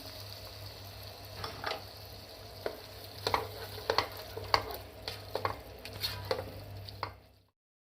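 Minced meat keema sizzles and fries in a pan after a cup of yogurt goes in, with a constant hiss and a spoon scraping and stirring in irregular clinks, then a sudden cutoff at the end.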